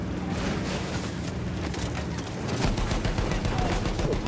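Gunfire in the World War I shooter Battlefield 1 during a push across a bridge: a dense, continuous barrage of overlapping shots and rattling bursts, loud and close, with heavier thumps growing in the final seconds.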